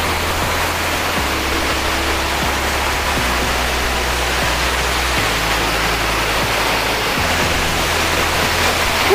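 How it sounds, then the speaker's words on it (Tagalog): San Isidro Falls in Tandag City, Surigao del Sur, Philippines, roars as a constant, dense wash of falling water, loud and close, with faint low hum beneath and no talking. "Yung bagsak ng water."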